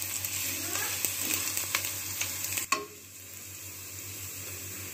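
Sliced ginger sizzling in hot oil in a pan for Lahori chickpea curry, a steady close frying hiss with stirring scrapes and a brief clatter before the sizzle settles lower.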